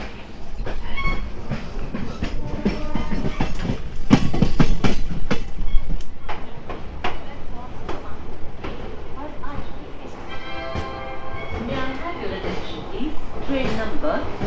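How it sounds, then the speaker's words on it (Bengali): A passenger train rolls into Katihar Junction with loud, steady clickety-clack of wheels over rail joints and rumbling carriages, while voices sound in the background. "আমাদের ট্রেন এখন ঢুকলো কাটিয়ার জংশনে"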